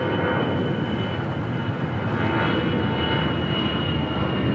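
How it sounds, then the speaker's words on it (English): An Air Tahiti Nui Boeing 787-9 Dreamliner arriving at LAX from Papeete makes a loud, steady jet engine roar with a broad rushing hiss that holds constant throughout. "This is Air Tahiti Nui Flight 8 coming in from Papeete, Tahiti. A 787-9 Dreamliner."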